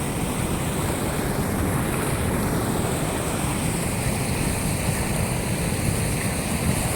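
A swollen village river, the Ghee river at Bhatgam, in flood after a night of rain, its water rushing in a steady, dense roar with no pauses and no voices.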